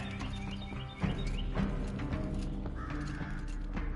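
Crows cawing in an outdoor video game scene, heard through headphones during a PS4 broadcast, with repeated harsh caws layered over a steady dense ambient bed of wind and wildlife, no talking.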